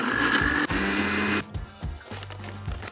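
A blender whirs through crushed ice, strawberry jelly and banana, running loud and steady for over a second, then cutting into a few short pulses that stop and start.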